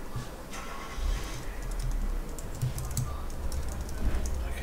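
Typing on a computer keyboard in a font-editing session: a quiet, steady run of soft key clicks over a low background hum, with no talking.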